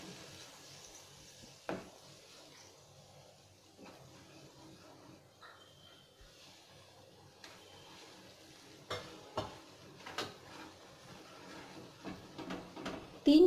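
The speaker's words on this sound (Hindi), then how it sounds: "जो हमने रवा रोस्ट किया है थोड़ा थोड़ा करके डालेंगे हम लो फ्लेम पर।" Roasted semolina is added bit by bit to boiling water in a pot over a low flame and stirred, giving quiet scraping and stirring sounds with occasional sharper knocks of a spoon against the pan, growing busier toward the end.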